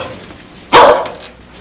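A dog gives a single sharp, loud bark up close, breaking an otherwise quiet moment in a scene from the sitcom The Golden Girls.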